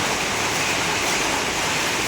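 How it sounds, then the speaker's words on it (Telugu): Heavy rain pours down outside the Sri Lakshminarayana Swamy Temple in Marathahalli, a dense, steady roar of hiss that holds unbroken at full strength and stays alone with no voices. "చాలా పెద్ద వర్షం పడుతుంది బయట, సో ఆ సౌండ్ కూడా మీకు వినిపిస్తున్నది."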